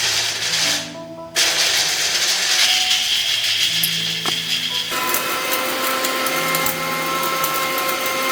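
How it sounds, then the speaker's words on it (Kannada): An electric mixer grinder running steadily as it powders dry ingredients in a mixie jar for homemade sambrani cones, a loud continuous motor whine with a brief dip near the start, alone without talk. "ಇದನ್ನ ಮಿಕ್ಸಿ ಜಾರಲ್ಲಿ ಹಾಕಿ ಸ್ವಲ್ಪ ಎಷ್ಟು ನುಣ್ಣಗಾಗುತ್ತೋ ಅಷ್ಟು ಪೌಡರ್ ಮಾಡಿಕೊಂಡು"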